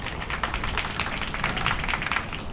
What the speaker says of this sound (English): So you are hearing some claps from the Singapore spectators